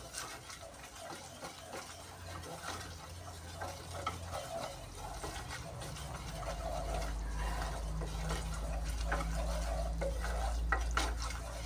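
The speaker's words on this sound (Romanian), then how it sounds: "Prăjim puțin făina." Flour stirred into a little oil in a pan, browning for stuffed peppers in tomato sauce; a steady soft sizzle with repeated scraping stir strokes, growing slightly louder and denser toward the end, close by with no talk.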